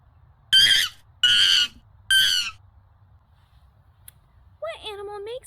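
Monkey calls in a children's guess-the-animal-sound game: three loud, harsh hooting calls in even succession, a pause, then a shorter wavering whooping call at the end.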